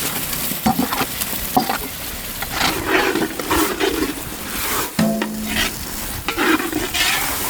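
Ground fish-curry masala goes into garlic frying in a pan, giving loud, close sizzling with repeated scraping stirs and clattering spoon strokes, irregular and continuous, with no voices.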